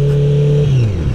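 A 2008 Honda CBR1000RR Fireblade motorcycle engine revs loudly up close, a strong steady tone that drops in pitch as the revs fall away in one short burst.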